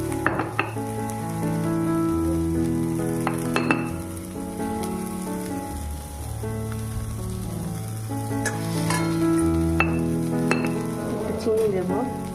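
Chopped snake gourd and potato peels sizzle steadily in a hot pan while a utensil stirs and clinks against the metal, close up, with a few brief louder scrapes.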